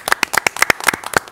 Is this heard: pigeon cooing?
no